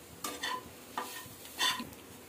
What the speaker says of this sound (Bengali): একটু একটু জল দিয়ে এবার মশলাটা তাহলে ফ্রাই হয়ে যাবে